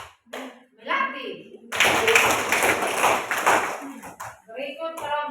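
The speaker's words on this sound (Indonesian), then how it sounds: "Oke, tepuk tangan juga untuk kelompok belati." A group of children in a classroom clap for a team for about two and a half seconds, a dense patter of many hands, with voices talking before and after.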